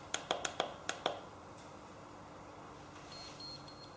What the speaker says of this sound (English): we hear the beeps initially telling me that we have made contact and we're ready to begin